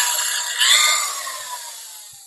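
A Hitachi 18 volt polisher buffing clear coat on paint, a high whirring drone close by that swells briefly then slowly winds down and fades over two seconds, with no talk.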